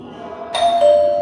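A two-tone ding-dong doorbell chimes once inside a small city home, bright and close, the second tone ringing out and sustaining briefly with no talk.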